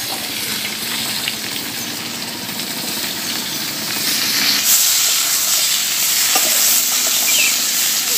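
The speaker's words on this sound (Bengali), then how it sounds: "সবজিটাকে আমি খুব বেশি ভাজবো না, হালকা করে জাস্ট একটু ভেজে নেব।" Cut potatoes and mixed vegetables fry in hot oil, a loud, close hissing sizzle that swells sharply midway and stays strong, with faint stirring underneath.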